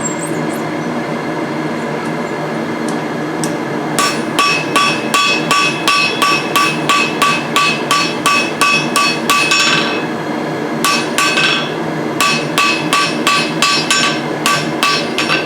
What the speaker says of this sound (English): This will be this piece right here that I'm hammering right now.